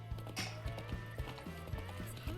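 Roach the horse from The Witcher 3 gallops with steady, rhythmic clip-clop hoofbeats close by, a regular beat running through the whole moment over a low game ambience.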